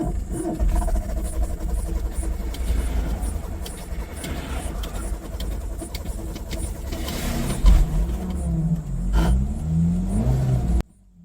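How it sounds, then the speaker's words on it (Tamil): A car engine is started at night and revved: a steady running rumble with rising and falling revs, close and loud throughout, cutting off abruptly at the end. "இப்போ வண்டி ஆன் ஆகிடுச்சு."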